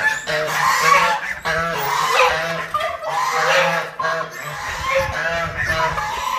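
Loud, close flock of hungry chickens and guinea fowl calling over one another on a farm, harsh repeated cackles and honking cries layered continuously.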